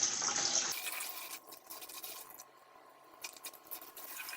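Water being flushed through the heater core of a 2012 Chrysler 200 3.6 with no heat, a steady close rush of liquid that briefly cuts off, then continues as softer gurgling and splashing.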